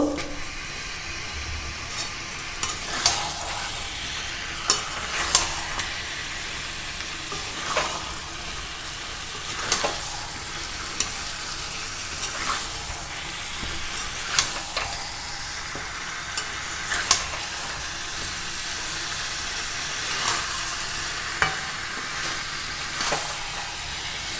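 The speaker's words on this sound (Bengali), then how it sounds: "এবার এই মশলার সঙ্গে সুন্দর করে চিকেনটাকে মিশিয়ে দেব।" Chicken pieces being stirred into spice masala in a pan for a wedding-style chicken curry with yogurt. The sizzle is steady, the spoon scrapes and clacks at regular intervals close up, and nobody speaks.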